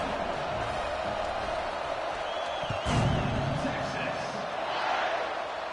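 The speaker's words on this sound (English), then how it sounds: "this crowd is buzzing after that last score" A football stadium crowd in a college football video game keeps up a steady dense roar and murmur, swelling briefly louder midway, with commentary talk running over it.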